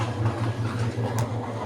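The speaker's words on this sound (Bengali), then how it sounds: "ওই দিক দিয়ে ট্রেন যাচ্ছে" A train runs past some distance away, giving a steady low rumbling hum that holds evenly throughout with a faint brief rise partway through. No one speaks.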